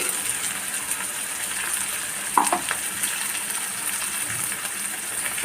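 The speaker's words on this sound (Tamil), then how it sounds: "இந்த கிரேவி நல்லா வதங்கிக்கிறோம்" Ground masala gravy for a jackfruit seed curry sautés in oil with a continuous dense, hissing sizzle, punctuated by a single louder stirring clatter partway through.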